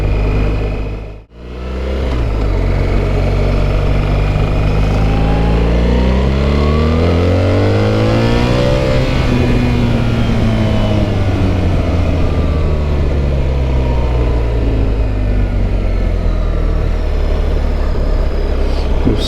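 A BMW R1300GS motorcycle accelerates hard close by, its loud raspy engine note climbing in pitch through several gear changes after a brief dip.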